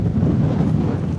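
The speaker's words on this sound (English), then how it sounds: "It's extremely windy" Strong wind on the Cornish coastline roars and buffets the microphone in a loud, continuous rumble with no break.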